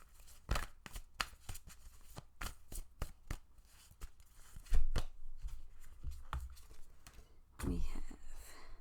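Tarot cards being shuffled and handled, producing a series of quick, close riffling snaps and flicks at an irregular rhythm, with a louder burst of shuffling toward the end.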